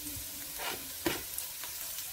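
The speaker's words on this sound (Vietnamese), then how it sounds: "Dầu sôi thì mình sẽ cho cái phần tỏi băm luôn." Minced garlic sizzles and fries in about a tablespoon of hot cooking oil in a pan, a steady close crackle with a few sharper pops, no talking.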